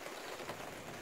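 Steady rain falls over a vegetable garden in rural Thailand, a dense, even hiss of drops with no gaps, fairly quiet and continuous, with no voices.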